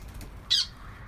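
A single short, harsh bird squawk, fairly loud and bright, rising briefly over a quiet background of low room noise.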